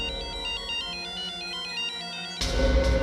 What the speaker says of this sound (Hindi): ये सेलफोन किसका बजा?